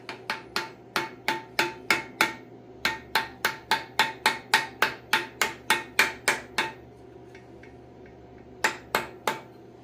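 Sharp metallic hammer taps while fitting a water pump on a Farmall 450 tractor, about two dozen evenly paced strikes, a short pause, then three more, close and loud.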